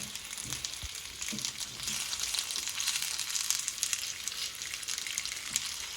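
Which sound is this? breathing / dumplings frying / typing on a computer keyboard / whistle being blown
dumplings frying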